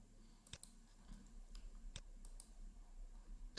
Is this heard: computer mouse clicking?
yes